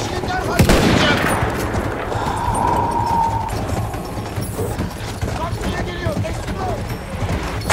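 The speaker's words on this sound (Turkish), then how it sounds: "Üf top atışı ha." A heavy blast opens a noisy Ottoman-front battle in the Battlefield 1 video game, followed by a constant wash of rifle and machine-gun fire and hoofbeat-like clatter.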